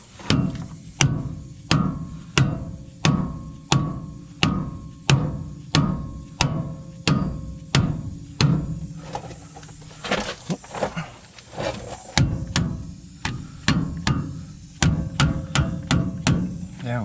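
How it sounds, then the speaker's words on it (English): A dead blow hammer strikes a part on a Dana 60 front axle of a 6.0 CUCV in a steady series of close, dull thuds about two per second. A brief rattling pause interrupts before the blows resume, with no talking. "Looks like we need the dead blow."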